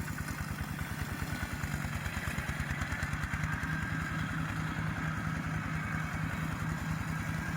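A Kubota 15.5 hp riding lawn mower with an automatic hydraulic drive runs with a steady, close, rapidly pulsing engine clatter throughout, with no talking.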